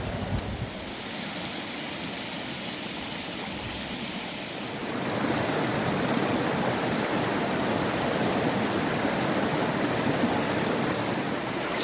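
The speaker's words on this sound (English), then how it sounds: "So let's head downstream and see if we can find any better looking spots." A river stream flowing near Tyndrum in the Scottish Highlands, a steady broad rushing of water close by that grows louder and fuller partway through and then holds, with no voices.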